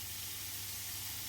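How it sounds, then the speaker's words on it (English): Steady, hissing sizzle of smoked bacon frying in a pan, a constant crackling wash of noise with no voices. "I can actually use this turner to get the bacon going"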